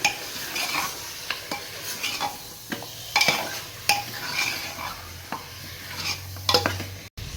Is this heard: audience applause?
no